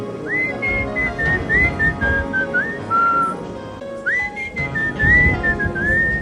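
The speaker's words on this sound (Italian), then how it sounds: "Vuoi fischiarla? Fischiami la tua canzone." Someone whistles a melody in two phrases, tuneful and sustained with slides between notes, close to the listener over a low background hum.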